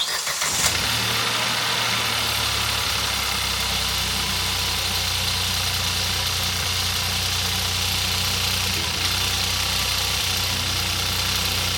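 A 2018 Hyundai i30 1.0 TGDi three-cylinder turbo petrol engine fires up after a turbocharger swap, with a sharp catch at the start and then a steady, close idle that hums evenly for the rest of the clip.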